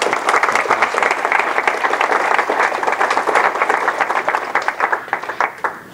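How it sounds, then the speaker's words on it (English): A dense, loud round of audience applause at a tennis association annual general meeting, many hands clapping together steadily before thinning to scattered claps at the end. "So again, big applause for both of those individuals."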